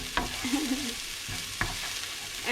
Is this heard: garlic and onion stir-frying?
yes